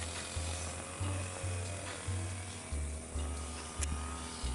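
A grass cutter trims the edges of a rice paddy, its motor droning with a rhythmic, regular swell as the blade sweeps back and forth through the grass, moderately distant.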